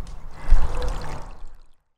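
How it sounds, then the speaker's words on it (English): Plain water pours into a cooking pot for tandoor chicken in a short, close splashing stream that fades out before the end. "Pour in plain water."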